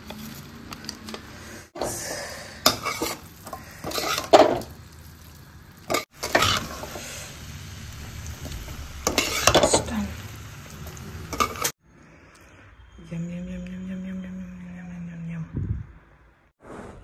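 Noodles and masala stirred in a pan, heard as bursts of scraping and clatter that stop partway through, followed by a nearby voice talking.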